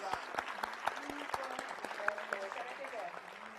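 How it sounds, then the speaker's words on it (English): An assembled audience at a space exploration event claps steadily in a long round of applause, moderately loud, with occasional voices mixed in. "let's give them all a round of applause"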